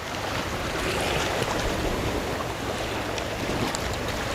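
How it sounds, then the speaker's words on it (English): Ocean waves crashing on the shore, heard as a dense, constant broadband roar of surf that stays loud and even throughout, with no voices. "tuning into the energy of the waves crashing in the back"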